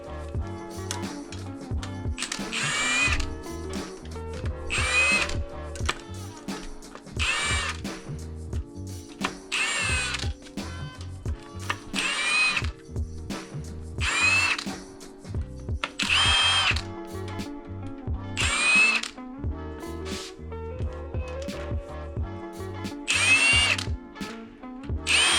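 Broken bolts are removed from an engine cylinder head during a turbo GTO teardown, with short, loud bursts of a power tool repeating about every two seconds amid clanking mechanical noise, close by and without speech.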